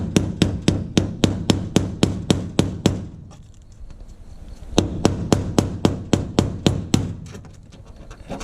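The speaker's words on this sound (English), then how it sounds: "It allows me to hammer it in if it's not lined up perfectly with the holes and whatnot." Hammer striking rivets into a school bus window panel during a skoolie conversion, a steady run of sharp metallic blows about three per second, close and loud, a short pause, then a second run of blows.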